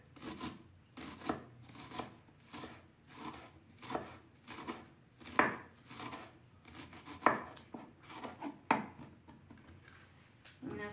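A kitchen knife chops onion finely on a board while fish in foil is being prepared, giving a steady run of close, crisp, rhythmic chops with short pauses between bursts.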